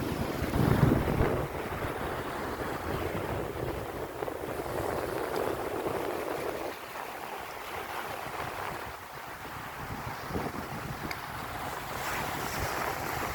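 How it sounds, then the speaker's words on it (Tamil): Sea waves wash continuously onto Omaha Beach in Normandy, a broad steady surf roar mixed with wind buffeting the microphone, with no talk. "எப்பொழுதும் கடல் அலை எல்லாம் பார்க்க சலிக்காது."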